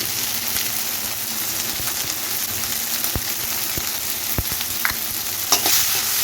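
Tomatoes with salt sauté in a hot pan, giving a steady close sizzle and frying crackle with occasional stirring clicks and pops throughout, no voices.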